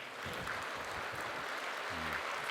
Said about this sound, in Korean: 우리 가족을 주신 하나님께 감사 박수 한번 해요